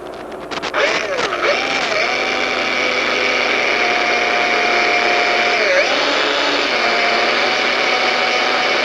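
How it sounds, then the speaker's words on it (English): A power drill with a 1/16-inch bit whines at a steady pitch after a few short starts, drilling a bicycle frame part, running continuously and loud with a slight dip in speed near the end. "16th inch drill bit."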